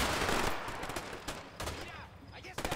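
Gunshots in the co-op prison-escape video game A Way Out, a burst of several sharp shots fired in quick succession at fairly close range, with voices talking over the gunfire.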